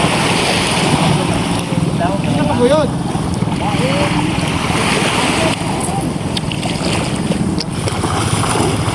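A fishing boat being lowered into the sea during a squid-fishing outing, set against steady wind rumble and lapping waves, with people talking briefly nearby.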